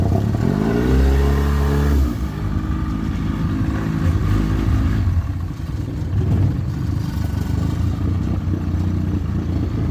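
A jet boat engine on a river during gold mining work, revving hard then dropping back and rising again as the throttle shifts between forward and reverse, loud and close with a steady low rumble and no talking.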